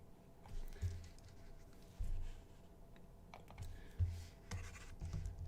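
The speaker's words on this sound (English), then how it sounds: "You will also hear the clicking on keyboard better" Sporadic keyboard clicks and typing taps at a computer desk during live competitive programming, quiet and uneven with short bursts and pauses between keystrokes, no talk.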